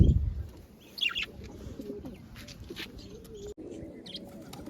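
Pigeons coo softly nearby, with a few chirps and a brief flutter of wings; no one speaks.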